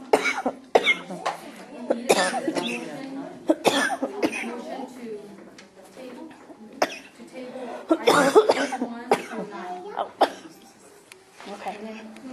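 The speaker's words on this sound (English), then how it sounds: "Coughing attack." Repeated harsh coughs in bursts, close and loud, with a few throat-clearing sounds between them; someone speaks briefly amid the coughing.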